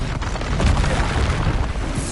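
In Hogwarts Legacy, an Expulso spell detonates as a loud, dense explosive roar with heavy low rumble that fills the whole moment without pause.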